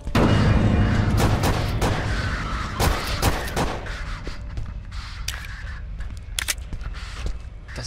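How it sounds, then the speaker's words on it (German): Heavy gunfire in the indie horror game Apartment 1406, a burst of loud booming shots and thuds up front, then sparser, fainter blasts trailing off, with no talking. "War ein Schuss."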